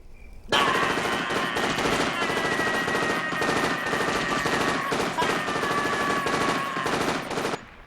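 A loud sustained burst of automatic gunfire, rapid shots firing in a continuous stream for about seven seconds before stopping abruptly, used as a dramatic sound effect.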